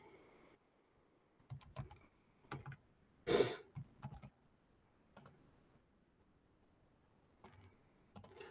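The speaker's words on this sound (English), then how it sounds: "so I'm just clicking something." Scattered mouse clicks pick answers in a Google Forms quiz, coming as short, quiet taps in small irregular clusters against a near-silent background, with no talk.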